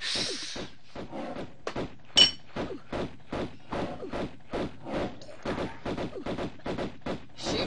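Pistol gunfire in the Tomb Raider video game: a long run of sharp, evenly spaced shots, roughly three per second, close and crisp, with one louder crack early on and no talking.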